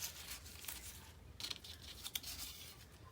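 Scissors cutting through magazine collage paper, a few faint, close snips and crisp rustles over a quiet background, with no voices.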